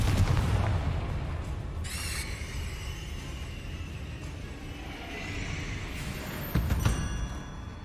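Booming spell blasts from the Hogwarts Legacy video game, a low rumbling explosion opening the clip and another sharp burst near the end, with a faint crackling tail in between.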